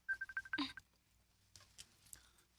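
A phone rings with a short burst of electronic tones, followed by quiet room sounds.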